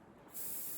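Short airbrush spray onto a board while painting terrain, a faint hiss that bursts into a steady, bright spray after a brief quiet start.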